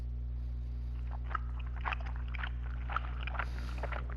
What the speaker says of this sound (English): There are noises coming from the phone,